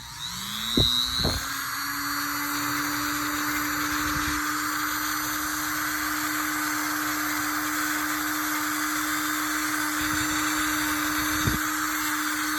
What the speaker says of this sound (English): I'm gonna sand it down a little bit with my sander because I think it's gonna be a tight fit.